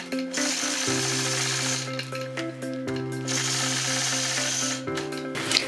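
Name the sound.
sewing machine stitching a quilt around a star with a ruler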